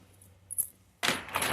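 A plain metal chain dog collar jingles in short bursts, first a brief light clink and then a louder, sustained rattle of links, close by with no talking.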